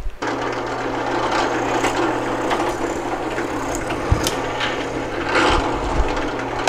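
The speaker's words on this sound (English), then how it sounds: "do this on the drill press with a slightly wider bit, and I'm also using a backer board because it'll keep it from splintering on the backside" A drill press bores through thick wood with a wider bit and a backer board underneath, giving a steady, close grinding rasp with a low motor hum and occasional louder bites.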